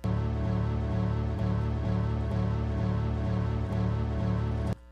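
A computer startup chime, sampled, stretched and looped, repeats in a steady pulsing cycle, sustained and even, cutting off abruptly at the end.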